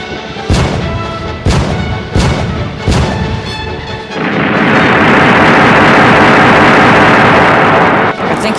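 Cannons fire in a Godzilla fan film: four heavy booms spaced about a second apart, loud and close, followed by a sustained roaring rumble that lasts several seconds.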